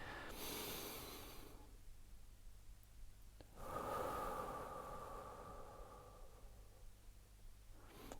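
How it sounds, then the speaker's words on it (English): A slow, deep yoga-style breath drawn in, held briefly, then let out through the mouth as a long, soft, airy exhale, close and quiet, with no talking. "taking a deep breath in and holding it, and then letting the air out again through your mouth"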